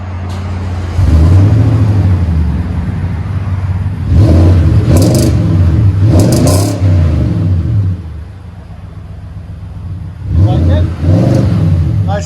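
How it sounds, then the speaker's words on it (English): A Nissan Titan pickup with a 5.6L V8 and a MagnaFlow dual-in, single-out exhaust with 3-inch tailpipe and 4-inch tip revs loudly in several deep, rumbling bursts, each rising and falling, with people talking between them. "We put a MagnaFlow on it, dual in, single out, into 3-inch tailpipe and a 4-inch tip right there."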